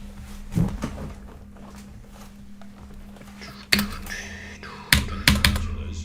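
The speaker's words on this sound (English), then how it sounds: "What keyboard do I use? K70 TKL Pro RGB." Sparse keystrokes on a Corsair K70 TKL Pro RGB keyboard over a low steady hum, with a few soft taps followed by louder clustered clacks near the end.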